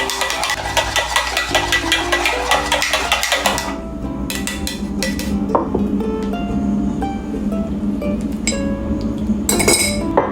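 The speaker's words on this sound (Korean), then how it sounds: "잘 섞일 수 있도록 한번 저어주겠습니다" Bar spoon stirring honey makgeolli in a glass, giving a fast run of bright clinks against the glass that thins into scattered taps and a final quick flurry, close and clear with no talk.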